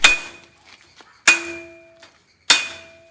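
A metal frame for a backyard bird cage is hammered to straighten bends before welding: three loud, evenly spaced clanging strikes, each ringing out and fading, with no voices.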